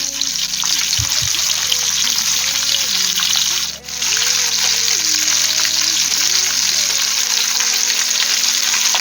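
Sardines coated in rava shallow-fry on a tawa with a steady bright sizzle close by, while a voice talks over the cooking and brief clinks sound near the start.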